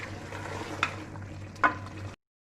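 Ground dried coriander, cumin and green chilies frying in hot oil for balti gosht give a steady close sizzle, broken by two sharp spoon clinks, before cutting to silence.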